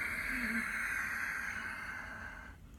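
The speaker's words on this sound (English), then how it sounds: "A soft, sweet, sighing, silky sound from the back of the throat, nearly sort of Darth Vader breath" Soft sighing breath drawn with the throat gripped, a breathy hiss with a faint rasp, heard close and quiet as one long exhale that fades out after a couple of seconds.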